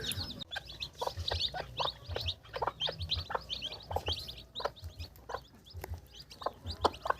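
Two mother hens raising a shared brood of newly hatched chicks together, giving repeated soft clucks beneath a steady stream of high, rapid chick peeps, close and continuous throughout.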